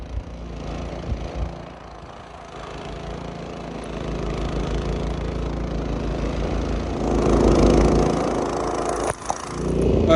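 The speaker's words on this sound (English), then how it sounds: "Too much to do with my snow blower." A snow blower works through two feet of deep blizzard snow, its engine droning steadily and growing louder and rougher midway as it churns, with a sharp knock near the end.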